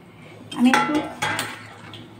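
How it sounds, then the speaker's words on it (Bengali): Pankashi fish curry with peas being stirred in a pot, a couple of metal spoon scrapes and clinks against the vessel, close and clear. "নড়িয়ে নিচ্ছি ঝোলটাকে"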